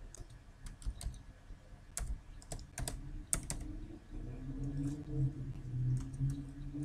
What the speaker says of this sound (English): You just type in this URL.